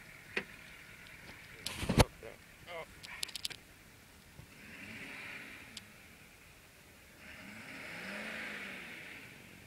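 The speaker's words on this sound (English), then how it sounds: "Turbo whistles, it's cool." A new Ford F450 truck revs, its engine rising in a couple of swells with a faint turbo whistle on top, after some clicks and knocks, moderately distant and not loud.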